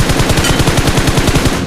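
Rapid automatic gunfire in PUBG on the Miramar map, a loud, continuous burst of evenly spaced shots firing close and without pause.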